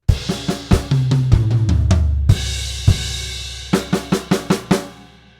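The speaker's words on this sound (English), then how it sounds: "play beats 3 and 4 as 8th note triplets on the snare drum as single strokes" A drum kit playing bars, with quick single-stroke 8th note triplets on the snare drum among tom and bass drum hits, cymbal crashes and a steady run of sharp closing strokes.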